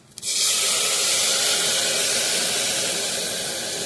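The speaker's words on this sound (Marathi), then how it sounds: "आता गरम पाणी टाकून घेऊ आपण" Hot water is poured into semolina roasting in oil with salt and coriander powder for upma, setting off a sudden loud steamy hiss after a small click that stays strong and steady throughout.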